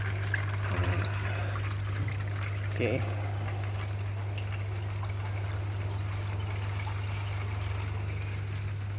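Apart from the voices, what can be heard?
water flowing fast from opened wall valve into filter tank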